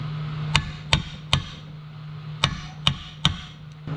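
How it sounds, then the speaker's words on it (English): Six sharp hammer taps on a seal installer fitting a valve cover seal on an Audi 4.2 V8, in an uneven rhythm, close and clear, over a faint steady hum. "Take your seal installer, set it on the top of there, and take your hammer and"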